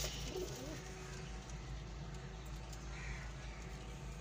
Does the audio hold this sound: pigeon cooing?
yes